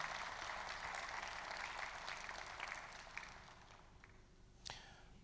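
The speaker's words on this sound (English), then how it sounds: "Please, one round of applause for him." Audience at a conference workshop applauds, a moderate clatter of clapping that fades toward the end, with a sharp knock or footstep near the close.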